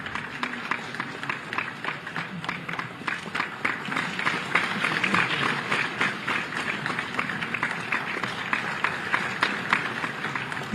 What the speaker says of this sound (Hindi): आप सबकी तालियों में इस समय पूरे उत्तर प्रदेश की तालियों की आवाज होनी चाहिए